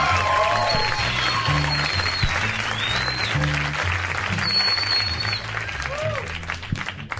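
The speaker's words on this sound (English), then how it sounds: "How about a round of applause for Chuck?" An audience at a late-night comedy show applauds steadily for Chuck, while a voice talks over the clapping throughout.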